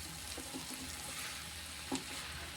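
Bitter gourd stir-frying in a little oil over low heat, a steady soft sizzle with faint scraping stirs and one brief clink near the end, no talking.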